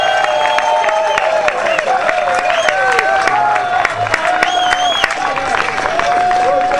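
A street crowd at the Nimbin MardiGrass parade cheers and applauds a float, with steady clapping, whistles and shouts filling the air continuously at close range.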